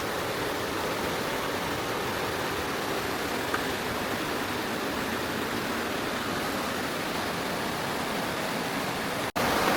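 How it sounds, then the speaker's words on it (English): A river in the North Cascades, Washington, rushes in a constant, full hiss, steady and unbroken throughout, with a small knock near the end. "You could hear the water even when you're inside and the windows are closed"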